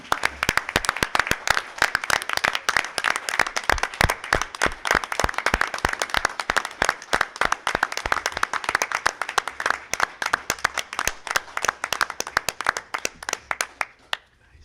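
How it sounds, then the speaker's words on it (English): A school board meeting audience gives sustained applause for back-to-back state champion athletes, with dense, lively clapping from many hands lasting around fourteen seconds before tapering off. "let's give them a nice round of applause for just an amazing season"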